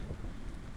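Rain falls steadily with a low rumble of thunder beneath it, a dense continuous wash of noise heard briefly and without any voices.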